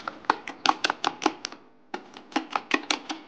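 Omelette egg mixture with garam masala is whisked briskly in a bowl, giving quick, close, rhythmic clicking strokes in two bursts separated by a brief pause.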